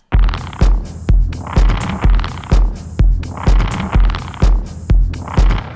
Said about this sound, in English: Quite a deep kick drum, but no bass.